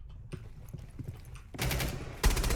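Gunfire in Rainbow Six Siege: a faint clatter of shots and then two loud bursts of rapid automatic fire near the end, close and without talk.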